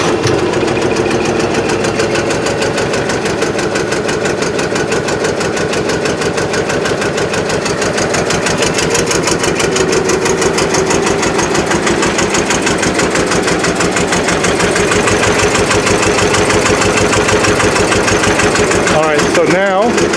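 An old Rolls Royce car engine being revived after long disuse runs at idle: a loud, continuous mechanical chug with a rapid, even rhythm throughout, close to the microphone, with a brief disturbance near the end.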